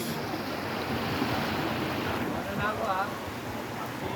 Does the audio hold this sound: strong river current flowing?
yes